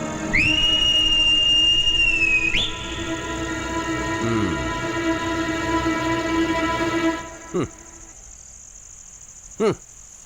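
A high, steady whistle-like tone holds for about two seconds, then a long sustained layer of tones follows, with two brief sharp chirps near the end.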